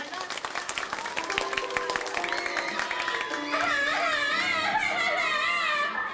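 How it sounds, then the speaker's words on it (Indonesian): Audience applause and cheering at a Balinese bondres comedy performance during a temple ceremony, with clapping mixed with crowd noise, music tones and overlapping voices, swelling louder in the second half. "Ngiring tepuk tangan dulu sarang sami"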